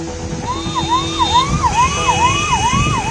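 An ambulance siren wails in a rapid rising-and-falling pattern, loud and close, while it sits stuck in traffic on a rain-flooded flyover, with a dense traffic rumble underneath.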